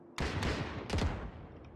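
Gunfire in a video game, two sharp bursts of shots, the second about a second after the first, with a muffled, processed quality.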